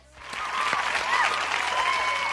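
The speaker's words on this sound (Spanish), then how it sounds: "Un aplauso para ella" Audience applause for a girl at a children's science show, a steady wash of clapping hands that rises quickly and holds, with a few voices calling out through it.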